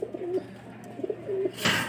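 Soft, low cooing from pigeons, a few short throaty coos in sequence, followed by a brief rustling burst near the end.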